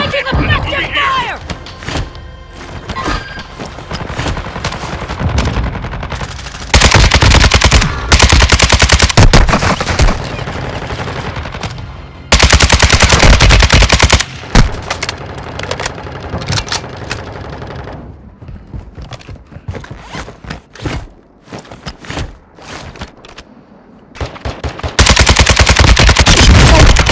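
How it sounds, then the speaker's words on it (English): Machine gun and rifle fire in a video game (Vondel map), loud sustained bursts and fusillades alternating with shorter volleys and quieter gaps, with players talking in between. "Taking effective fire!"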